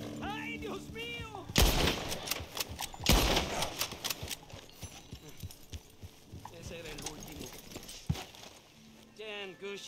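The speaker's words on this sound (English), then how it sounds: "Damn good shooting, senor." Gunfire in Red Dead Redemption 2 comes as a few loud, sharp cracks early on amid a busy scene, with hoofbeats, clattering and shouting voices mixed around them and talk at the start and end.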